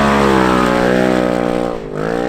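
A Hooptie X cheap off-road racing car drives past close by, its engine droning loudly with rich harmonics, easing off briefly near the end and then picking back up.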